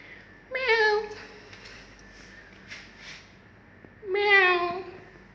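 A white cat meows twice, each call long and tonal with a pause between, close to the listener, plus a few soft rustles in between.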